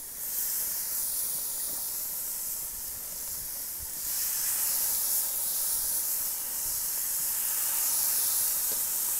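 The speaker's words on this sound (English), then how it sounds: "And that's the sizzle I'm looking for." Food laid on a hot grill at 400 degrees gives a steady, fairly quiet sizzling hiss that swells slightly partway through and carries on without talk.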